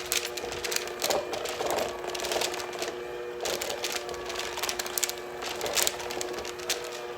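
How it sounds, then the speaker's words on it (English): Electric stand mixer running on a very low speed while mixing buttercream with added sugar, giving a steady mechanical whir with a rhythmic clatter throughout, fairly quiet and with no talk. "if you notice, the setting on my mixer is super low"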